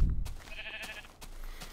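A single short sheep bleat from the video game Minecraft sounds close and fairly soft, followed by a few faint clicks.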